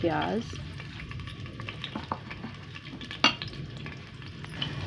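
Onions frying in moderately heated oil for a nargisi aloo dish, a low constant sizzle broken by spoon scrapes and a sharp clink, with a brief burst of louder frying at the start.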